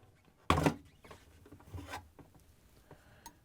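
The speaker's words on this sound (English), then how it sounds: "we're going to get in between the light housing cover and the liner very carefully with a putty knife and twist it to release it" A putty knife prying a plastic light housing cover off an LG/Kenmore refrigerator liner gives a sharp scrape, followed by a few faint rubbing and clicking sounds.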